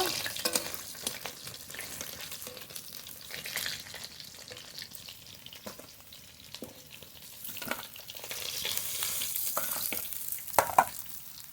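Pakal fish fry in oil with a continuous crackling sizzle, rising and falling in loudness, with occasional spatter pops and a sharper clink near the end.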